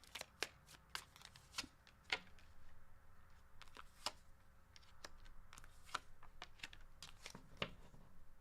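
Tarot cards are shuffled repeatedly, giving crisp riffling snaps and soft slides at an uneven rhythm, close and quiet, with no voices.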